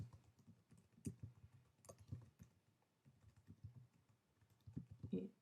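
Computer keyboard typing while entering basic HTML tags in an editor, a quick irregular run of soft clicks with short pauses, fairly faint and close, with no talking.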